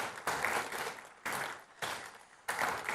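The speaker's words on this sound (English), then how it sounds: "Let's begin with a huge round of applause and get the energy going." A summit crowd breaks into applause in repeated bursts, each swell of dense clapping rising sharply then fading, fairly distant and without talk over it.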